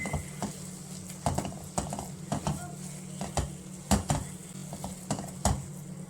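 Besan (gram flour) roasts in ghee over a low flame, with a steady soft sizzle under repeated sharp scraping clicks of a spoon stirring against the pan, beneath a low background hum.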